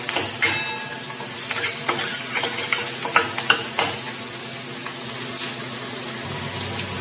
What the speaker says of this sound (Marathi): कांदा चांगला मऊ होईपर्यंत शिजून घ्यायचा आहे.